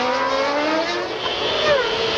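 Formula One race cars at the 1994 Canadian Grand Prix, a loud high-pitched engine scream with sweeping pitch changes as cars pass, close and continuous.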